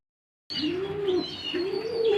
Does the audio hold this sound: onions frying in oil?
no